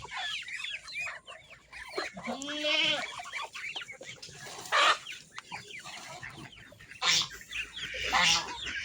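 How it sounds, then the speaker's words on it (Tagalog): A flock of chickens clucks and squawks nearby, scattered calls overlapping, with a few louder sharp cries standing out and some goat-like bleats. "Maamoy mga native na manok ko dito."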